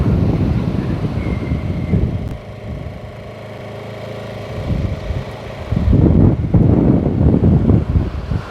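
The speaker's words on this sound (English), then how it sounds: "Oh, that wind's strong." Strong wind buffets the microphone at an Australian surf beach, roaring in heavy gusts that ease in the middle and then surge back loudly.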